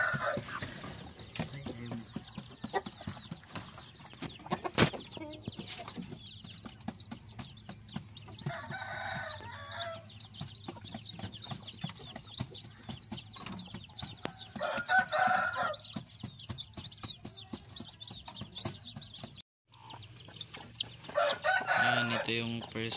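Purebred straight-comb chickens and newly hatched chicks cluck, cheep and crow around a backyard coop, in dense overlapping calls with a faint talking voice beneath them.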